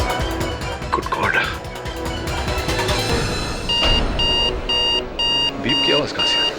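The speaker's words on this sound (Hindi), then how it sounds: "बीप की आवाज कहां से आई?" Bright electronic alarm beeps in a Hindi courtroom drama scene, starting as a tangle under dramatic music and then settling into a steady series of loud, evenly spaced tones.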